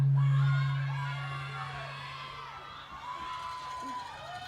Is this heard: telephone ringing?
no